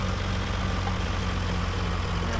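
A tractor engine idles with a steady low rumble and even vibration on a farm, with no speech.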